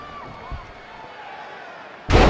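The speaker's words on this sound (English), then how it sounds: "Textbook vertical suplex." A wrestler is driven into the mat with a vertical suplex in a packed arena, landing as one sudden, loud, broad slam at the end, after a stretch of low crowd noise.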